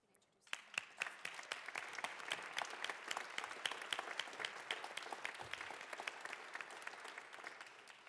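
Applause in the Colorado House of Representatives chamber begins abruptly after a short quiet moment, then settles into steady, dense clapping from many people that carries on at an even level.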